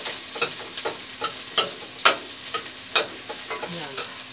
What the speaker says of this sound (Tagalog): Papalambotin muna yung sibuyas